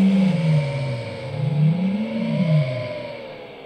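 A car engine sound effect revs up and down in smooth, continuous swells, rising and falling in pitch with a steady whirring tone throughout, loud and alone without any voices.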